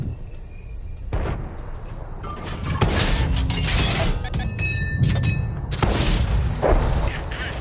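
A tank cannon fires a shell in World of Tanks, with loud booms and mechanical clanks, heavy impacts in a burst, and a voice talking over the game sounds.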